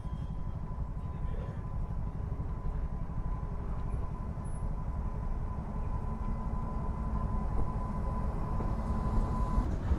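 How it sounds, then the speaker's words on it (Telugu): A long freight train of oil tanker wagons rolls past a lowered railway crossing gate, giving a steady, loud low rumble with a faint thin whine that holds unbroken for the full ten seconds. "చలో ఇట్లా ఒక గేట్ పడుతుంది కదా, మీకు ట్రైన్ చూపిస్తా"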